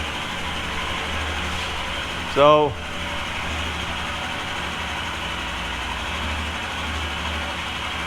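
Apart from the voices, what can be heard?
Royal Enfield Himalayan motorcycle engine idling, valve overlap noise from new cam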